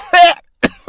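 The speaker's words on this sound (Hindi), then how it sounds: "जोर जोर से खांसने लगा" A man chokes on food and breaks into loud, harsh coughing, one strong burst followed by a shorter cough after a pause, close and alone.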